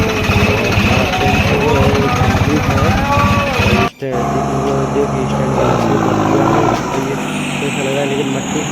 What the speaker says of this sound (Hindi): दीपू भाई ट्रैक्टर चला रहे हैं।